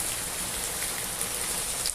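Rain falls steadily and evenly nearby in an outdoor roadside setting, a dense wash of patter with a few louder drop hits toward the end, no voices.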